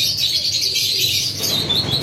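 Pigeons of a Ferozpuri breed at a Karachi bird market, soft chirps and cooing over a steady busy hiss of crowd and background noise, with no clear speech.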